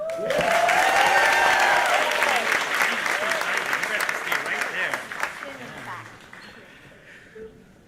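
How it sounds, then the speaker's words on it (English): A large audience at an event with the First Lady breaks into loud, sustained applause that slowly fades over several seconds, with voices and cheers mixed in. "Let's give her another round of applause"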